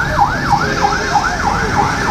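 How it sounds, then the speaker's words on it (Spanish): Ambulance siren arriving at a fatal traffic accident on a city avenue, a loud, close, repeating wail that rises and falls about every third of a second, steady throughout with no voices. "Llega en este momento ambulancia, pero no hay nada que hacer ya."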